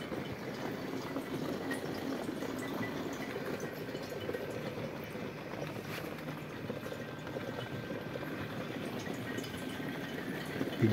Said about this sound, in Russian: Звук кипения очень сильный.